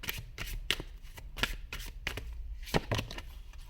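Cards shuffled by hand during a card reading: a string of crisp, close riffling and snapping bursts at an uneven pace, with no talking.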